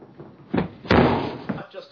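A man kicks at a reinforced door fitted with a door-safe security system, producing heavy thuds and a booming slam, three close impacts in quick, uneven succession.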